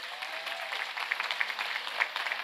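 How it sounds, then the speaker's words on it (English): Applause from a school crowd at a high school ribbon cutting ceremony, a steady patter of many hands clapping that stays even and continuous throughout, with a few sharper individual claps standing out near the front. "Let's give them another round of applause."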